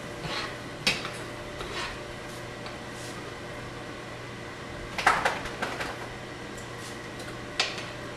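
Filet mignon steaks being plated in a home kitchen, with a few sparse clinks and light knocks of cutlery and dishes spread over a quiet, steady room hum.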